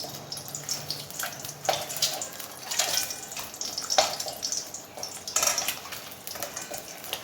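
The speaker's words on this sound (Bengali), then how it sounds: "ভাজা চলছে ডিমগুলো" Eggs frying in a pan for a Bengali egg curry, giving a steady close sizzle with scattered crackles and pops that swell and fade over several seconds, with no talking.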